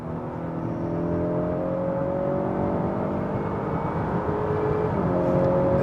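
A Honda Accord 2.0 turbo Sport engine revs steadily upward under acceleration in Sport mode, a continuous rising whir and drone held loud and close for about six seconds with no talk over it.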